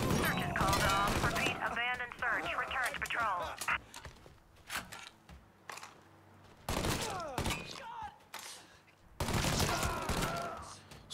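Bursts of rapid gunfire from the video game Mafia III come in several loud volleys separated by quieter gaps, with a voice speaking briefly between them.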